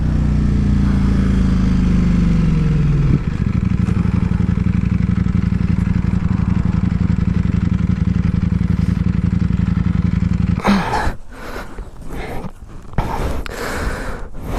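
A Ducati Panigale V4 S motorcycle engine slows from a roll into a loud, steady, rumbling idle for about ten seconds, then cuts out and gives way to close clattering and handling knocks, with no talking.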